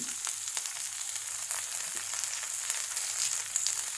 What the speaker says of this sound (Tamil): உளுந்து கொஞ்சம் ஃப்ரை ஆன உடனே நமக்கு சின்ன வெங்காயம் போடலாம்